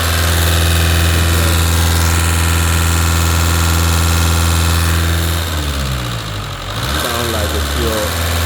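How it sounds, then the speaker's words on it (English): Audi A4 2.0 diesel with no power, running rough after a timing belt replacement, drones steadily up close at idle, then its note wavers and shifts unevenly as the throttle is pressed partway through. "Car's running lumpy. As you can hear the noise."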